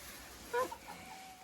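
A hen clucks once in a henhouse during egg collecting, a short close cluck followed by a fainter trailing call against quiet background.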